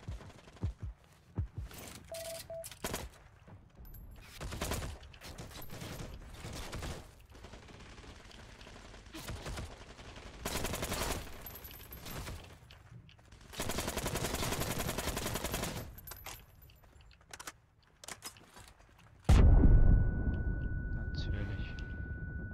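Machine gun fire in the video game Heroes & Generals crackles in repeated bursts of varying length, some loud and near, with someone talking over the shooting.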